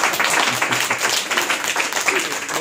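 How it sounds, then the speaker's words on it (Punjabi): A studio audience claps together in sustained, dense applause, steady and loud throughout with no pauses. "ਤਾੜੀਆਂ ਮਾਰੋ"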